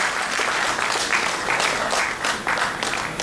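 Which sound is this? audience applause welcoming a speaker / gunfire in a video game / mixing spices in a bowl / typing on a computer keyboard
audience applause welcoming a speaker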